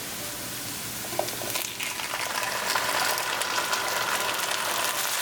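Onion and kidney beans frying in a pan produce a steady, fairly quiet sizzle and bubbling, with a couple of light knocks of stirring partway through.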